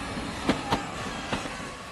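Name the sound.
train starting to move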